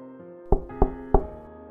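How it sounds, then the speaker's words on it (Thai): Three firm knocks land on a door at an even pace, close and distinct, with near silence around them. "เสียงเคาะประตู"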